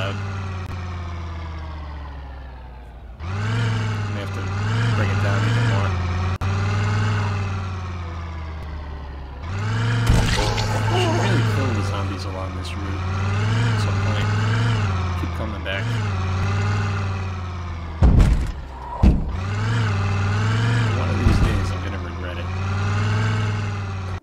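A car engine in the video game World War Z drones steadily with rising and falling revs, loud and close, broken by short pauses and a few clunks.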